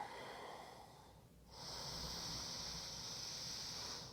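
Slow, deep breaths are drawn in yoga practice for singers. A soft airy inhale follows a faint exhale, close and quiet, with no talking.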